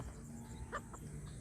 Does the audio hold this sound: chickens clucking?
yes